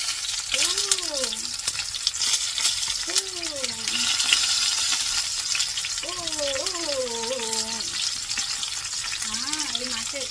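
Hilsa fish sizzling in hot oil, a continuous bright hiss with scattered crackles running throughout, while a person talks over it in several short stretches.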